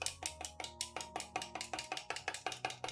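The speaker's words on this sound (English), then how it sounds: "Then stir well so the cinnamon fully dissolves." A spoon clinks rhythmically against the sides of a container, about a dozen quick, even strikes as cinnamon is stirred into hot water, close and steady.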